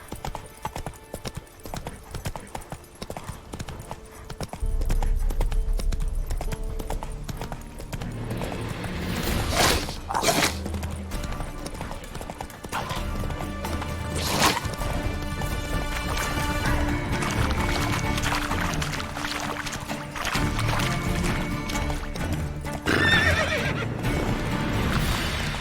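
Roach, Geralt's horse in The Witcher 3: Wild Hunt, gallops in steady clip-clop hoofbeats that run for most of the stretch, with a loud whinny near the middle, all over a continuous game soundscape.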